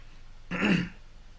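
A single close throat-clearing cough from a man, one short rough burst that stands out against a quiet room with no speech.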